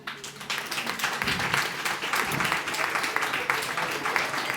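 Applause breaks out at a pub quiz for the team Destilat, a room of people clapping steadily and fairly loudly with some crowd noise mixed in.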